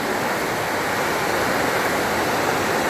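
Clear water pours down from above and flows underneath, a dense, unbroken rushing wash that stays close and constant throughout.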